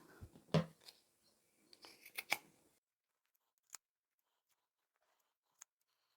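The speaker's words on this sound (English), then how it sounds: "Once you've finished sewing the corners, we can cut off the ears." Scissors snipping off the sewn corners of fabric on a small zippered handbag, a few crisp close cuts and rustles in quick succession, then quiet with two isolated light clicks.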